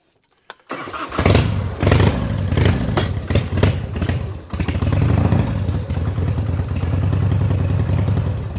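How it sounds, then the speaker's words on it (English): A Harley-Davidson motorcycle with a slipping clutch starts with a sharp crank and then idles loud and close, with a lumpy, uneven chug as it is put into gear and the motor half stalls. "Start her up and put her into gear and see what happens now."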